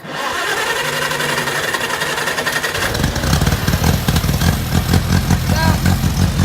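An International Cub tractor engine is cranked and then catches around the three-second mark, settling into a loud, close, choppy running rhythm that stays steady to the end, with someone speaking briefly over it.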